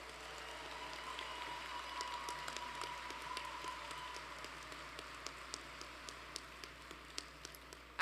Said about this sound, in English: Please, one more round of applause for all of our graduate degree recipients.